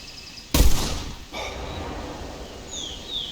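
A rifle fires once at a turkey in the hunting game theHunter Classic: a single loud, sharp crack near the start, then a quiet outdoor ambience with faint bird calls.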